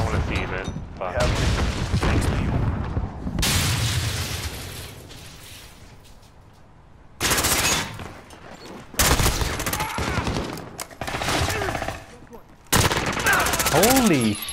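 Heavy automatic gunfire with booming blasts in the shooter game Call of Duty: Modern Warfare, loud bursts starting and stopping abruptly between quieter stretches, with players talking in between.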